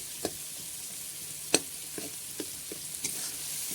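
Spices being stir-fried in a pan for vegetarian khichuri, with a soft continuous sizzle broken by occasional spoon taps and scrapes, close and moderately quiet, no voices.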